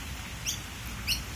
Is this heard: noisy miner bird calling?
yes